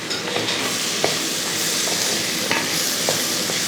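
Raw mango pieces stirred into a sardine curry in a pan, with a steady close sizzle and a few soft scraping stirs of a spoon against the pan, no talking.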